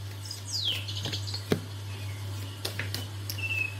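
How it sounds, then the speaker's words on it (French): Small birds chirp and tweet in scattered short calls beside a waterfall and small stream, over a steady low hum and faint patter. "Avec les petits oiseaux, la cascade, la petite rivière."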